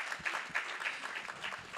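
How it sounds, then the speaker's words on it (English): An audience at a live podcast taping breaks into applause, a brief dense patter of many hands clapping at moderate loudness. "clap it up for that."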